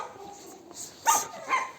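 An excited dog shut inside somewhere whimpers and yips, with soft high whines building to two sharper, louder cries near the end, heard close and alone.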